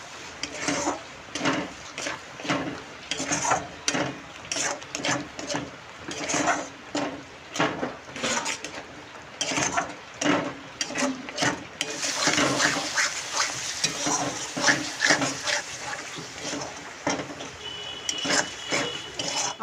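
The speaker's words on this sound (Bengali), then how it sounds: "এবার একসঙ্গে কষাবো।" A paste of cashews, melon seeds and poppy seeds is stir-fried in oil for a Bengali doi katla fish curry, with rhythmic spatula scrapes and sizzle bursts that grow denser and louder partway through.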